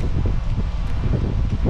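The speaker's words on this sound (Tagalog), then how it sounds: "Lakas ng hangin, my friends and friendship." Strong wind gusts through a backyard vegetable garden with okra plants, a loud steady roar and buffeting rumble with rustling leaves and no voices.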